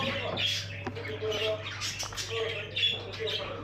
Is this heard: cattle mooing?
no